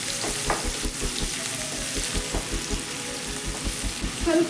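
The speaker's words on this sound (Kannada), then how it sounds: "ಇದರಲ್ಲಿ ಒಂದು 3/4 ಭಾಗದಷ್ಟು ಈರುಳ್ಳಿನ ಫ್ರೈ ಮಾಡ್ಕೋಬೇಕು." Sliced onions fry in hot oil for a gravy, a dense, close sizzle with steady crackle and faint stirring scrapes throughout, no voices.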